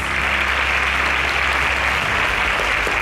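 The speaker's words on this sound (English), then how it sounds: "A round of applause for him." A studio audience at a televised quiz show semi-final bursts into loud, dense applause that holds steady for about three seconds, close and continuous without any voices.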